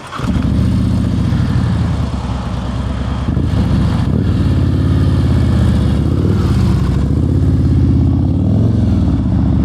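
Motorcycle engine idling and burbling steadily at low speed during slow-speed riding practice among cones, a continuous close rumble with slight throttle variations and no talk.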